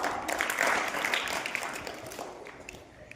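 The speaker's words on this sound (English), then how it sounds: "Let's welcome them with a big round of applause" Students and guests at a school English speech competition applaud as two speakers step up for the welcome speech, a soft, diffuse round of clapping that swells early and then gradually fades.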